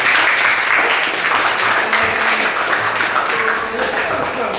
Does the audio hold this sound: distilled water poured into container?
no